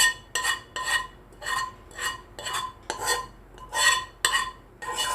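A spoon scrapes and clinks around a bowl while stirring instant tteokbokki sauce, about ten rhythmic strokes in quick succession, close and clear with no talking.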